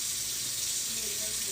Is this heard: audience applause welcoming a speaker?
no